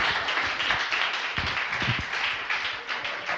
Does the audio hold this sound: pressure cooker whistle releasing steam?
no